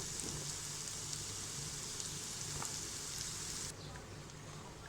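Hot water hits a pan of fried rice for almond pulao, a loud, steady hissing rush close by that cuts off abruptly near the end, leaving a quieter simmer.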